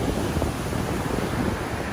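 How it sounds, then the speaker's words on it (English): Surf breaking steadily on a public Pacific beach at Cabo San Lucas, a continuous broadband wash of waves with wind buffeting the microphone, loud and close with no voices. "But the waves here, this is, like I said, the Pacific side."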